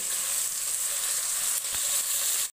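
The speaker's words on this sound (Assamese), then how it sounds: "এয়া মই ভাতকেৰেলা ভাজি আছোঁ" Pieces of bitter gourd, boiled and rubbed with salt and turmeric, fry in hot oil with a dense, even hiss that holds steady throughout before cutting off abruptly.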